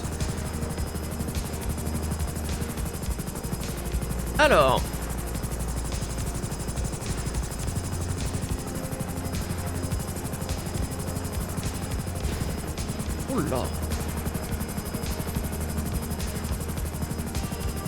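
A helicopter in a roleplay video game drones steadily throughout with a constant rotor buzz, while a player briefly exclaims twice over it.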